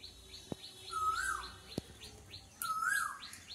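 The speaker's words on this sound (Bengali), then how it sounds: "সকালবেলা কোকিল ডাকছে" An Asian koel calls in the morning, its rising whistled notes repeating twice, with smaller birds chirping steadily around it and a couple of sharp knocks nearby.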